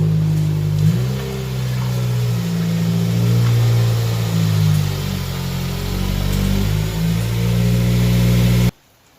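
A 2015 Subaru WRX with a crackle burble tune and stock STI mid pipe revs inside a parking garage, its loud engine rising and falling through several blips and ending with a sudden cutoff.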